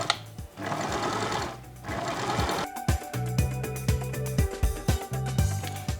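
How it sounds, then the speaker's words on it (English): An overlock machine serges the edges of a shirt facing, a dense rapid whirring hum that turns into a choppy run of quick stitching pulses, close up. "I will overlock the edges of the facing upward"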